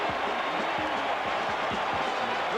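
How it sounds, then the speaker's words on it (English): A football stadium crowd roars in a steady, dense wash of cheering after an interception in a 1981 Cowboys at Eagles game, with faint rhythmic thumps underneath and no clear talk. "Listen to this crowd and the excitement here"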